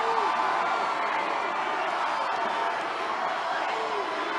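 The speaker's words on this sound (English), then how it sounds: "You can hear the crowd. They're chanting" A large crowd at a Donald Trump political rally cheers and chants USA, a dense, loud, continuous roar of many voices that holds steady for the whole stretch.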